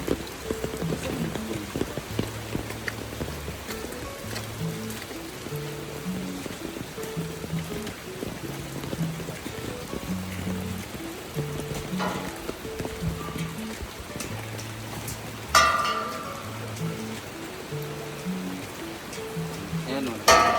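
Heavy rain falls steadily on a rural province home, a constant wash of noise running beneath soft background music for the whole stretch, with a couple of brief louder spikes.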